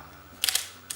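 A Pentax ME Super 35mm film camera fires its shutter, giving a crisp, close double mechanical click followed by a second lighter snap of the mirror and winder a moment later, otherwise quiet.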